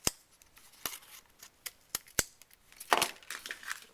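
A 1-inch paper punch cutting through black paper for a snowman craft, giving sharp, crisp clicks and snaps spaced irregularly across a quiet room, with one rougher crunching burst near the end.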